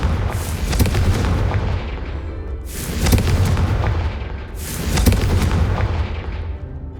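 Confringo blasting curse explosions in the Hogwarts Legacy video game: three loud, booming blasts spaced a couple of seconds apart, each a sharp burst that fades into a rumbling tail over steady low background noise.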